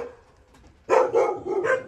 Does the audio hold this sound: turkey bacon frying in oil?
no